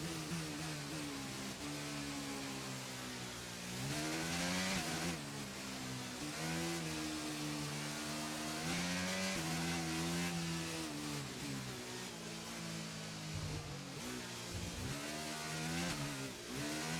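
A Formula 1 race car engine in F1 23 revs high and steadily, rising and falling through gear changes in a continuous loud whine with no talk.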